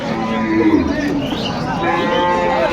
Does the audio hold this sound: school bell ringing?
no